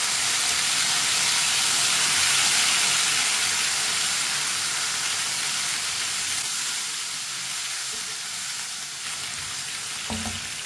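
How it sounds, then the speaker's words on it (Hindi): Chopped tomatoes and lightly browned onions fry in a pan for lauki sabzi, giving a loud, dense, continuous sizzle that eases slightly toward the end, joined by a faint clink near the close, with no speech. "टमाटर को 1 मिनट के लिए पका लेंगे।"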